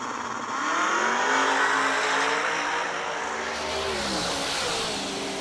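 A 1967 Nova drag car rises from a loud engine roar into a rising rev. It builds through the launch, close and alone with no talk, then settles into a sustained high-pitched engine howl.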